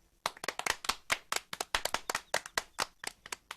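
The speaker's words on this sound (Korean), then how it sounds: "박수." Steady rhythmic hand clapping from a small group, close and brisk, with evenly spaced claps running through the whole moment and no talk.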